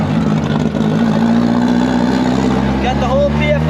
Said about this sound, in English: Loud and fast. That's a race car.